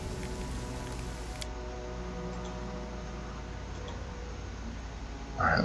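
Steady rain falls over a campsite in the Pathfinder: Kingmaker video game, a constant, even hiss with faint ticking droplets and no voices.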